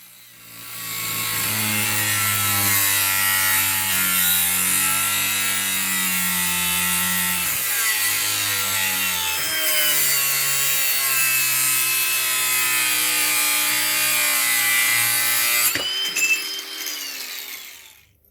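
Scrap iron stock being cut to length for a homemade mortise chisel, a loud, steady grinding or sawing drone that runs unbroken for about fifteen seconds before winding down and stopping.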